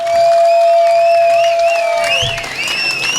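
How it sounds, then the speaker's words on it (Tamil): An outdoor village crowd claps and cheers for a group of young boys, loud, close applause mixed with whistle-like tones and shouts that ebb slightly toward the end. "ஒரு கைதட்டு கொடுக்கலாம் இந்த தம்பிகளுக்கு."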